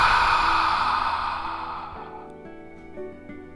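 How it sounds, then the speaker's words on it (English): A long exhale through the open mouth with a soft, breathy "ha" sound during yoga breathing, starting close and fairly loud and fading gently over a few seconds. "breathe out through your mouth with a ha sound."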